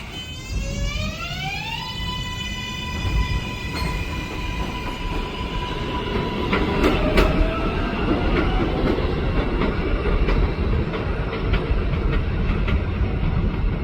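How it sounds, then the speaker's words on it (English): NYC subway 7 local train pulling into 40th Street station on the Flushing Line during evening rush hour, a rising motor whine giving way to loud steady rumbling, clattering wheels and occasional sharp squeals, close and continuous. "Flushing Main Street bound 7 local train."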